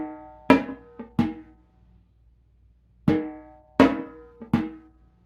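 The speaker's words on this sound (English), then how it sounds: "So it's going to sound like this:" Brushes tap a low-high-low bolero conga-style pattern on a drum, with pitch bending upward; two clear groups of three sharp, close strikes separated by a pause, with no talking.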